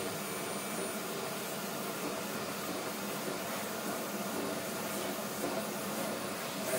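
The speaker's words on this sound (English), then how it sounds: "you must have in your listening room the vacuum cleaner" A vacuum cleaner runs continuously in a speaker listening room with a steady, loud broadband whoosh and whine, close by, with no pauses.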